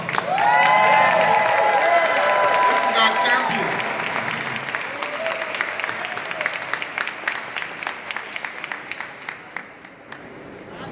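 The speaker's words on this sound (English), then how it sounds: "please give her a rousing round of applause" Rousing crowd applause with cheers fills a packed Minnesota state capitol building in Saint Paul at a marijuana legalization rally, loud at first and then thinning into scattered claps while a speaker talks over it.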